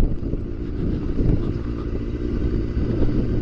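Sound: motorcycle engine at low revs

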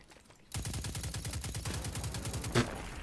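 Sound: enemies shooting guns in the video game Destiny 2

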